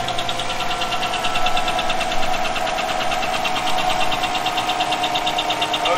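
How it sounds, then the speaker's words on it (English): A 2015 GM V8 truck engine idles steadily and loudly nearby, with a fast, even lifter ticking layered over the low rumble. "All right, we have the truck idled down."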